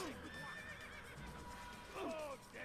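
A horse neighs in the video game Assassin's Creed, with whinnies at the start and again near the end and clip-clop hooves under game ambience.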